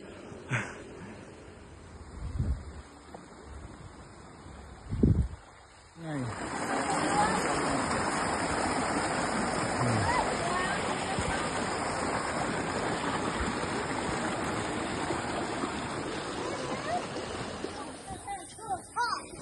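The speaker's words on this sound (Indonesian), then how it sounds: "Sungai." A mountain river on the slopes of Mount Slamet rushes in a steady, broad wash of water noise that begins after a few seconds and continues throughout, with a few thumps and brief voices early on.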